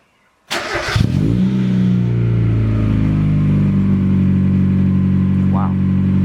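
A Mazda Miata fitted with a CorkSport catback exhaust and 1.6 X-Force headers, silencer removed, fires up with a sharp burst and settles into a loud, steady rumbling idle nearby, holding evenly with a brief blip near the end.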